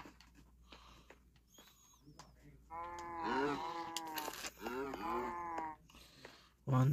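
Cattle on a farm let out several drawn-out moos in close succession, fairly near and clear over a quiet background.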